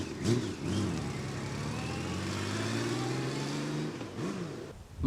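A Honda F6C Valkyrie motorcycle accelerating hard nearby, its engine note rising through several gear pulls in a steady, continuous roar before easing off at the end.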